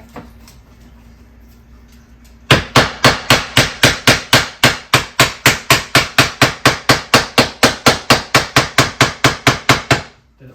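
Rapid, steady hammer taps drive laminate flooring planks together to set the seam in a laundry room, about thirty sharp knocks in an even rhythm after a quiet start, close and loud.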